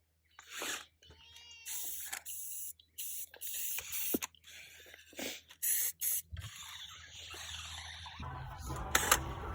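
Short bursts of aerosol marking paint sprayed along two garden rows every few feet, hissing in quick separate puffs with pauses between, fairly close and without talk.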